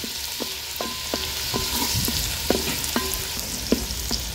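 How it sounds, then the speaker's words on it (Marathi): Crushed garlic sautés in hot oil for a red snapper fish curry over a wood-fired stove, a steady bright frying hiss punctuated by regular ringing spoon taps against the pan, about two per second. "तेल आता गरम झाले, तेलामध्ये हा चेचलेला लसूण ऍड करणार आहोत। लसूण थोडा तेलावर परतून घेऊया।"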